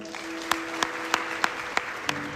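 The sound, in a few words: audience applause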